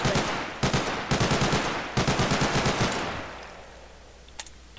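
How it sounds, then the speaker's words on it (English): Rapid automatic gunfire in a video game rattles in dense, loud bursts with brief gaps, then fades into quiet with a couple of faint distant pops. "Put a couple bullets into it."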